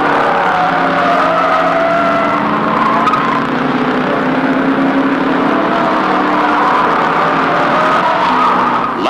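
Race cars from the 1970 Bathurst 1000k, with Fords in the field, sweep through the S bends at Mount Panorama. The loud engine roar is continuous, with tire squeal woven through it and no pause from start to end.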